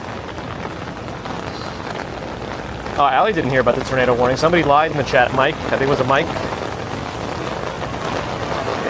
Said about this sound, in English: There's that rain.